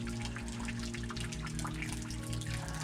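Steady rushing water of a waterfall in Ohio fills the scene, a continuous close wash with faint rhythmic low thumping beneath it.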